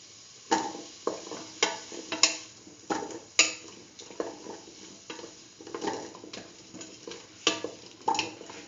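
Potato pieces tossed into a hot pan for a potato and chayote rice dish are stirred with repeated sharp scraping knocks about every half second. A soft sizzle runs underneath, close and clear, with no voices.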